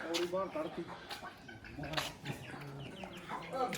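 Hens cluck and squawk repeatedly amid a busy outdoor crowd at a horse fair in Sri Muktsar Sahib, with people talking over and between the bird calls.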